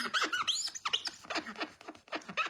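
Hand sanitizer being scrubbed over a glass craft mat to lift dried glue gives a rapid run of high, close squeaks and chirps, loud and continuous, with no voices.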